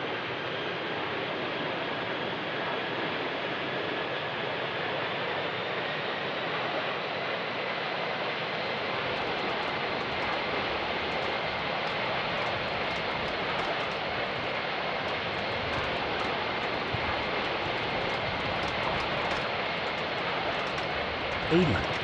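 A simulated Angkor Air A320 jet takes off from runway 05 at Phnom Penh, a steady broadband engine roar that holds throughout and gains a heavier low rumble partway through.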